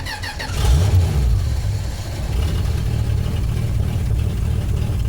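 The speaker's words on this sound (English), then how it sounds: "So the car hasn't run in 6 days. Let's see how it starts." A classic Dodge car engine that has sat for six days cranks and catches, then settles into a loud, steady, close idle.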